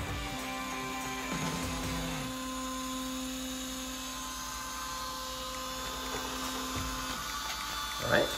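A large Modix 3D printer moves its print head during bed leveling, producing a steady motor whine and hum with tonal sweeps as the head travels, while someone speaks faintly in the background.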